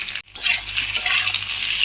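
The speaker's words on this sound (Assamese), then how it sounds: "এতিয়া আলু আৰু অমিতাখিনি অকণমান সময়ৰ বাবে ভাজি আছোঁ" Close, steady sizzle of potatoes and papaya frying in a pan, with light stirring scrapes after a brief pause at the start.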